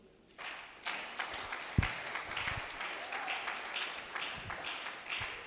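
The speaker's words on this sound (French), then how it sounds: "Quelqu'un peut acclamer Dieu?" A church congregation breaks into applause after a brief quiet start, a sustained crowd of clapping hands with scattered cheers, fairly close and steady to the end.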